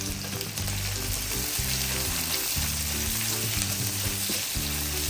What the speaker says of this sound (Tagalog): igigisa rin ating bawang kapag mainit na nga rin ating mantika